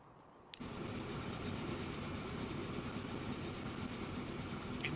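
Trains running in the city-building game Transport Fever 2, a steady loud rumbling drone that cuts in sharply after a brief quiet start and then holds constant with no speech.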